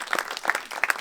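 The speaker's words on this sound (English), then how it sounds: "Another round of applause," Audience applause at a film Q&A, a short burst of scattered hand claps with no talking.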